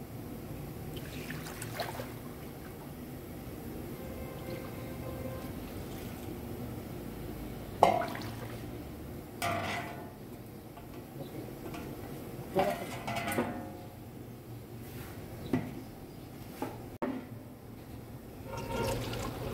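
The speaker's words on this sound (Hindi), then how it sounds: "ये इसमें पानी ऐड कर दिया जाएगा।" Water, about four litres, pours into a large pot for an aloo samosa filling at a bakery kitchen, a steady liquid rush with a few sharper splashes and clatters over a continuous background.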